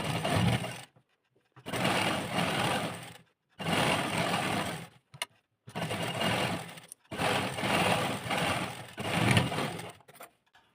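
A sewing machine stitches a suit sleeve in a series of about six steady whirring bursts, each lasting a second or more, separated by brief quiet pauses.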